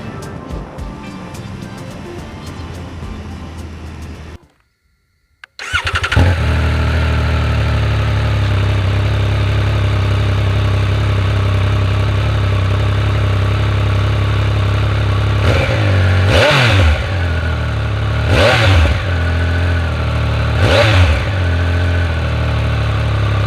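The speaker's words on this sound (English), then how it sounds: "Now the sound of the bike is pure Speed Triple" Triumph Speed Triple 1200RR engine running loud and close, a rough idle that cuts out briefly, then fires back up to a steady throbbing idle punctuated by several sharp throttle blips.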